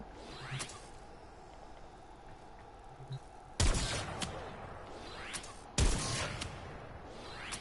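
Two sharp, powerful shots from a Lanka rifle in the Warframe video game, fired through walls and a couple of seconds apart, cut through a low ambient game hum.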